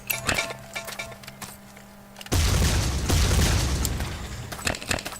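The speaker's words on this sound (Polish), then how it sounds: "Wybuchają jak normalne granaty." Grenades explode in the AOS mod of a video game: a few sharp pops and clinks at first, then a loud, booming blast that rolls on as a dense rumble for several seconds before fading with some crackling bursts.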